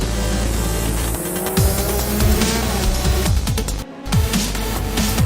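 Race cars in a sim racing video game crash and spin at a hairpin during an eRacing championship, with loud continuous engine roar, repeated tire squeals and impact bursts, plus a brief dropout of sound midway.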